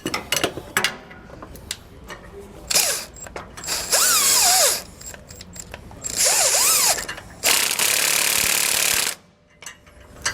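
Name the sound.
ratchet tightening a lock nut on anti-sway bar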